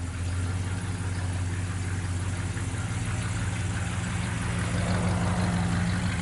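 A 1964 Ford Galaxie XL 500 with a 390 V8 idles steadily through its exhaust, a close, constant low rumble with a slight rise toward the end and no talking.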